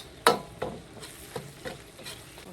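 Seasoning ingredients stir-fried in a hot wok while preparing braised beef cheek with dried bamboo shoots, a sharp scraping sizzle at the start followed by several softer spatula strokes and crackles at irregular intervals.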